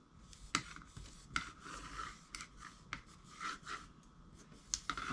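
Large spatula rubbing and scraping over paper to press it down while gluing a handmade 3-ring notebook, a run of close, dry scratchy strokes with irregular rhythm.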